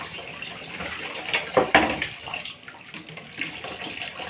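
Water runs from a tap in a steady hiss, with a brief louder gush partway through and faint background clatter.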